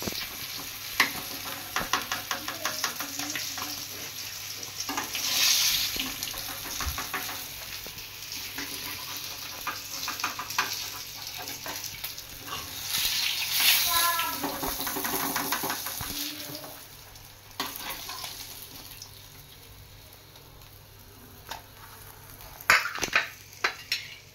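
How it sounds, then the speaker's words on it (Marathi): Fish frying in hot oil makes a continuous crackling sizzle throughout, with periodic swells of louder spattering and occasional clinks of a utensil against the pan, close by with no talking. "राहिलेले पण मासे तळून घ्यायचे सगळे"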